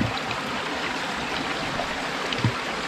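A river flows at a junction where streams meet, giving a steady, close rushing wash of water that stays even throughout, with a faint knock near the end and no voices.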